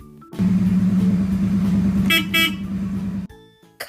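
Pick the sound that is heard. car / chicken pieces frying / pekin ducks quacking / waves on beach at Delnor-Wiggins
car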